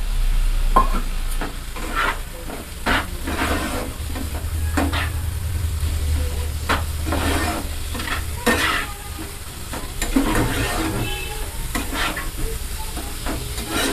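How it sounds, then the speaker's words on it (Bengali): Green tomatoes fry with spices in a pan for a salted fish curry, giving a constant sizzle broken by repeated scraping stirs and a low rumble underneath, close and with no talking. "কাঁচা টমেটোটা আমি এরকম হালকা আঁচে ধীরে ধীরে কিন্তু এর সাথে ভেজে নেব।"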